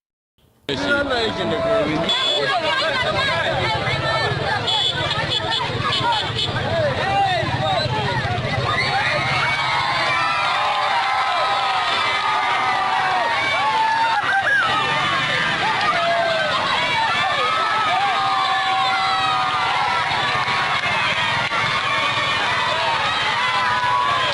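An excited outdoor crowd gathered around homemade helicopters, with children shouting and a continuous babble of many voices cheering, loud and sustained throughout.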